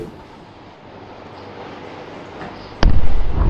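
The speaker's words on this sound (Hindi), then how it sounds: "देखिए दोस्तों, ये उड़ा दिया है मस्जिद को" An Israeli tank blows up a mosque in Gaza; a low roaring rumble builds gradually, then a sudden loud blast erupts near the end and its heavy boom keeps thundering.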